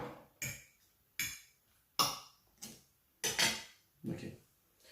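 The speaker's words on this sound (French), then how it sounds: "Je vais quand même bien mélanger." Utensil scraping and clinking against a bowl while mixing a food preparation, with seven separate irregular knocks and scrapes, fairly close and moderately loud, pausing briefly between strokes, no voices.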